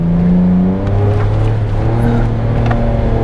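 A 2022 Ford Ranger Raptor pickup truck engine revs and accelerates up close in four-wheel drive, its droning tone rising and shifting steadily under rumbling road noise.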